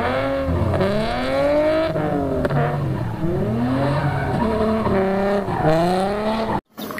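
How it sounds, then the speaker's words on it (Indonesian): Toy race car sound effect with high revving engine whine and tire screech, rising and falling in repeated sweeps, loud and close, cutting off abruptly near the end. "Ternyata yang ini mobil balap ya."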